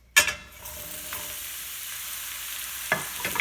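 Mushrooms dropped into preheated olive oil, a sudden loud sizzle that settles into steady frying hiss, with a brief stir or clatter near the end.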